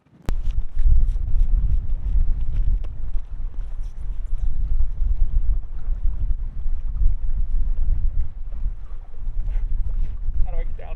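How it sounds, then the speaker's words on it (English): Strong wind on a Lake Michigan shore buffets the microphone in a continuous low roar, with faint thumps and rustles underneath. "I was so worried that my camera was gonna blow over. It's pretty windy."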